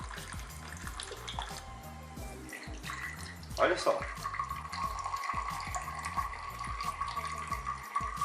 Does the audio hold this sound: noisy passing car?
no